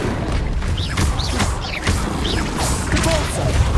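Incendio fire spell from the Hogwarts Legacy video game, a series of rapid whooshing flame bursts and thuds repeating across a few seconds, layered over constant game rumble with some voice activity.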